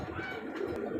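Pigeons cooing at a pigeon market or loft where racer, Bombay, Giribaz and Satin breeds are kept; soft, continuous low coos fill the short stretch with no talk.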